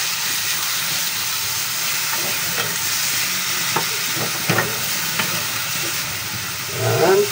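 Ground meat sizzles and hisses steadily in a hot pan for picadillo, with occasional scraping stirs of a utensil and a louder clatter near the end, close and continuous.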